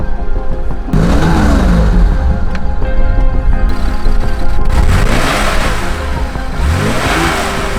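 A 1972 Porsche 911 S Targa with its 2.4-litre air-cooled flat-six revs hard in a series of rising, falling sweeps. The engine sounds loud and close throughout, with no talking.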